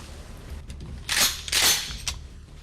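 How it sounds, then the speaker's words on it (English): A pump-action shotgun racked to chamber a shell, heard as a couple of sharp, close metallic clacks in quick succession over a quiet background. "By racking the shotgun"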